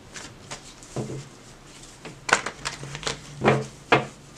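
Light papery riffles and soft taps come in uneven bursts, a few louder flicks near the end, as a deck of tarot cards is shuffled close up.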